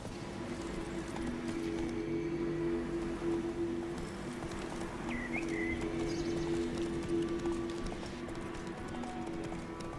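Hooves of Geralt's horse Roach clip-clop in a steady galloping rhythm through the Witcher 3 countryside in White Orchard, loud and continuous across the whole stretch over a low ambient hum.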